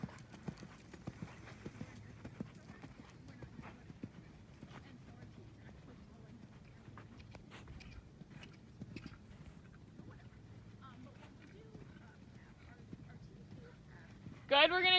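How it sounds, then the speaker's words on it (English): A horse canters around an arena, its hoofbeats thudding in a steady three-beat rhythm, faint and distant, with an occasional snort, while a riding instructor talks over the footfalls. "let him canter on down this long side"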